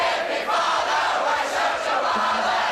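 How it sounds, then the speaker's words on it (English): A large German crowd at a rock concert roars and cheers continuously, a loud dense wall of shouting voices. "The crowds in Germany are amazing."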